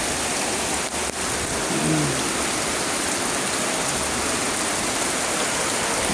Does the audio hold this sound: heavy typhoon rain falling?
yes